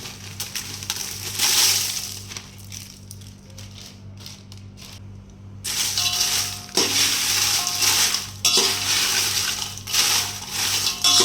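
Dried Byadgi and Kashmiri chillies fry in hot oil, a loud crackling sizzle with rattling bursts that drop away briefly mid-way then return strong, no talking.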